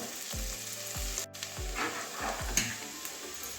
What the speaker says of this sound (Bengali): আর তো কিছুক্ষণ নাড়াচড়া করে নেবো তারপরে নামাবো